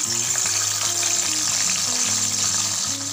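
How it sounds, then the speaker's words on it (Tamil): Brinjal slices fry in oil over a low flame, giving a steady, close hiss of sizzling that runs unbroken for the whole stretch, with a low humming tone underneath. "கத்திரிக்காய் சீக்கிரம் வெந்துடும், கருக்க விட்டுறாதீங்க, லோ ஃப்ளேமில் பொரிங்க"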